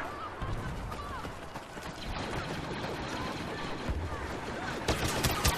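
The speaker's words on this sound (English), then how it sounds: "People are shooting." Dense battlefield gunfire from Star Wars: Battlefront crackles steadily throughout, with repeated shots and sharp bursts layered over busy combat noise and occasional speech.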